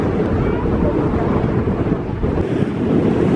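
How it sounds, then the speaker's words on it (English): Steady, loud wind buffeting the microphone on a breezy seaside beach at Filey, with a broad roar of surf underneath and no break throughout. "Breezy, breezy."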